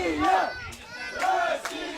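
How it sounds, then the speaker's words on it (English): Crowd at a women's ultimate frisbee match between Finland and Russia shouts loud, ringing chants for Russia in two bursts. "Russia shouts from the crowd"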